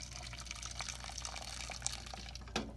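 Hot water poured for Herbalife high protein iced coffee, a steady faint trickle and splash of liquid filling a cup, running continuously with a couple of small clinks near the end.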